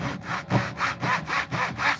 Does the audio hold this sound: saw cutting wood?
yes